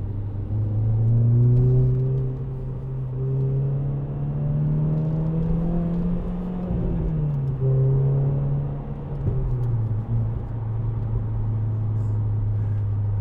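A 2010 Renault Clio 2.0 VVT Renaultsport 3-door, driven hard, drones loudly from inside the cabin, its engine note rising and dipping as the revs climb and fall steadily throughout.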